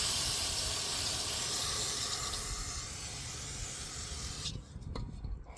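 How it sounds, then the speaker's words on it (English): Brake parts cleaner sprays from an aerosol can onto an asphalt mixer attachment for a skid steer, a steady close hiss that fades and cuts off near the end, with no talk. "we'll get some more brake parts cleaner. Clean that off."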